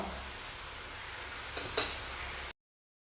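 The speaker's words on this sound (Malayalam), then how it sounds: "ഇനി നമുക്കിത് കോരി എണ്ണയിൽ നിന്ന് കോരി മാറ്റാം" Jackfruit pieces deep-frying in hot oil give a steady close sizzle, with a brief scrape and clink as a slotted spoon lifts them out before the sound cuts off; no one talks.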